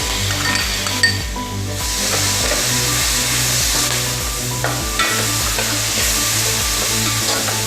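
Masala and chopped tomatoes for a bhuna chicken curry fry in a pan with a loud, continuous sizzle, broken by a low rhythmic pulsing and the occasional clink and scrape of a stirring spoon.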